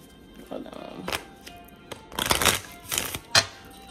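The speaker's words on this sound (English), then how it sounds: "I just want to finish shuffling." A deck of cards shuffled by hand during a card reading gives several quick, crisp riffling bursts, close and fairly loud, separated by short pauses.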